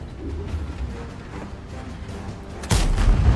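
A tank cannon fires in the World of Tanks video game, a single sudden heavy boom near the end that breaks over a low engine rumble.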